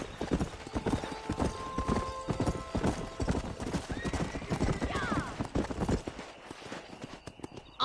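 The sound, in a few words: horse riding and galloping, video game Red Dead Redemption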